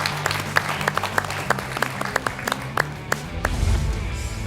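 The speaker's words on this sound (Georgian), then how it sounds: "აპლოდისმენტებით გავასწროთ ქალბატონო ტატიანა" A studio audience at a televised comedy game show applauds steadily, crisp individual claps ringing out over a continuous bed of clapping for several seconds.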